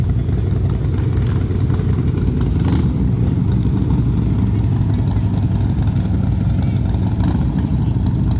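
Motorcycle engines idle and rev steadily on a busy street in Galway, a constant loud low rumble filling the whole stretch with a brief surge in the middle.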